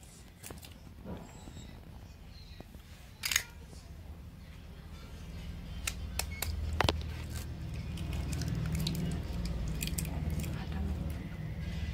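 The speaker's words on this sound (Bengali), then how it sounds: "ডিমগুলোকে ফাটিয়ে নিচ্ছি" Two eggs are cracked into a bowl for frying egg chops, giving a sharp, close crack followed later by a softer second crack against a quiet kitchen background with faint rustling.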